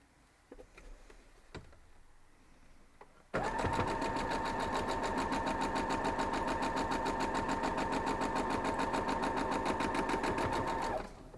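A sewing machine stitches a quilt block seam on a half-square triangle, starting after a few quiet handling clicks and then running in a steady, fast, even mechanical whir close up until it stops.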